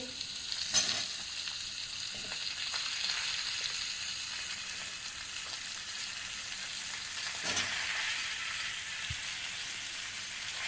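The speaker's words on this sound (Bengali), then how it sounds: "এবার অল্প নুন দিয়ে এটাকে একটু পাঁচ মিনিট ভেজে নেবো" Radish, papaya and potato frying in a pan make a continuous close sizzle with occasional soft stirring clicks, steady throughout with no talking.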